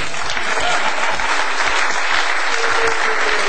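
Audience clapping at a German children's performance, a dense, steady burst of applause from a close crowd filling the whole moment.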